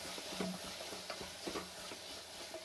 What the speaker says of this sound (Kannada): ಉಪ್ಪು ಒಂಚೂರು ಹಾಕ್ಬಿಟ್ಟು ಈಗ ಹಸಿ ವಾಸನೆ ಹೋಗೋ ತನಕ ಒಂದು ಸ್ವಲ್ಪ ಫ್ರೈ ಮಾಡ್ಕೊಳ್ಳೋಣ